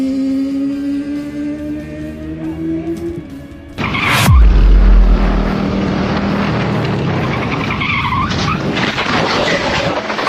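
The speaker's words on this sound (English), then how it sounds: "the wheels give out under the heavy lean. Fortunately, track runoff areas are designed for safety, allowing both bike and rider to slide out" On a race track, a motorcycle and rider slide out under heavy lean: an engine whine cuts off, then a loud impact and a long scraping skid as the bike grinds across the runoff area.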